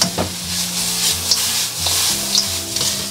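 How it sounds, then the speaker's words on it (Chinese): Spare ribs being stir-fried in a wok with preserved radish, fermented black beans and a splash of high-proof baijiu, giving a steady loud sizzle with scraping stirring strokes throughout, no talking. "然后把这个菜脯跟这个豆豉放上去爆香"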